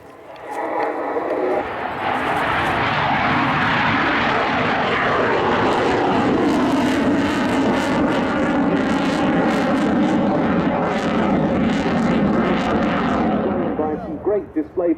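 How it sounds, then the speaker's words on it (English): A Polish Air Force Mikoyan MiG-29 jet fighter in a flying display at an air show, its engines a loud, sustained roar that builds quickly and holds steady throughout, with a commentator talking over it. "fantastic to see an example of the Mikoyan MiG-29 back in action"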